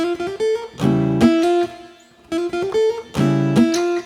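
A short melodic R&B guitar run of plucked notes from the minor scale, played twice with a chord strummed in the middle of each pass, clear and close.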